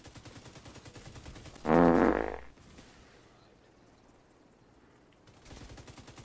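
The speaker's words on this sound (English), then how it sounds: "I didn't even know you were shooting at him." Gunfire in The Division 2, a short loud burst of rapid shots followed by quieter background game noise with faint rhythmic pulses.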